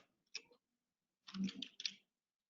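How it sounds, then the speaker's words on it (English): Quiet clicks from someone typing a bank routing number on a computer keyboard: one short tap cluster, a pause, then a denser run of keystrokes, close and alone without speech. "I'm going to type the routing number, and then I'm going to type the account number"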